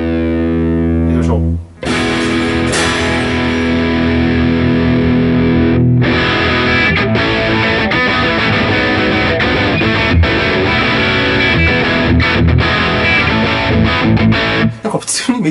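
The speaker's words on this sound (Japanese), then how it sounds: "チューブクランカーというディストーションみたいですね。" An electric guitar plays through an XTOMP mini pedal set to a Tube Clanker distortion, giving sustained, loud, heavily overdriven chords and riffs with a brief cut near the start and a few short gaps.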